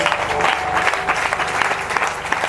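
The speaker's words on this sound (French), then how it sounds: "Viens, on acclame le Seigneur." A church congregation applauds during a worship service, producing dense, loud, continuous clapping that fills the whole stretch with no pause.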